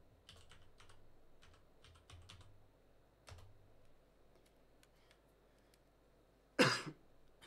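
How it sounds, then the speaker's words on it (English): A single sharp cough bursts out near the end after quiet computer keyboard typing, close and much louder than the clicking keys. "Just gonna cough"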